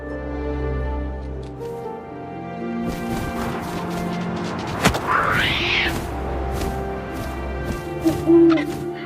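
An owl hoots in the video game What Remains of Edith Finch, a clear call rising over steady wind and game ambience, with a sharp crash-like burst midway.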